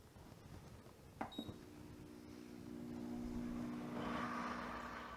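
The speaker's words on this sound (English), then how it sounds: "Our blender just finished beeping, so that means our jelly is completely done." A couple of quick electronic beeps from a blender finishing cranberry jelly sound over a steady appliance hum that swells toward the end.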